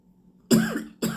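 Two close, loud coughs in quick succession, the first sharper and longer, the second cut short.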